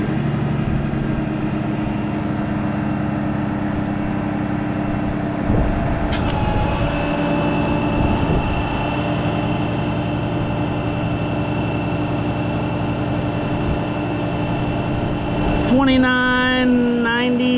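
An Altec DC47 truck engine runs at full throttle driving a hydraulic pump, a loud, constant droning roar with steady hum tones and a rising mechanical whine near the end.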